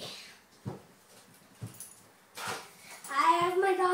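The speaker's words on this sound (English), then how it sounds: "this is where my dog is. I got him." A dog whimpers in short, faint yelps spaced across the clip, followed by louder whining and a brief human voice near the end.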